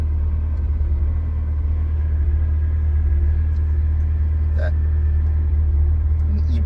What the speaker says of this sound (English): she got herself up into a little bit of a high idle